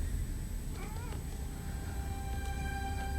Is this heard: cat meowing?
yes